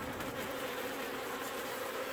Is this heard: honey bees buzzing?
yes